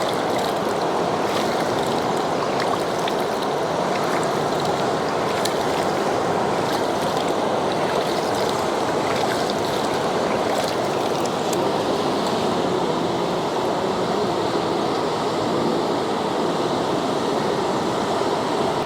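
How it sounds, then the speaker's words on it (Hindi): River water rushes steadily at the Rudraprayag confluence in the mountains, a loud, continuous broadband roar of flowing current with no voices over it. "सिर्फ पानी की आवाज़"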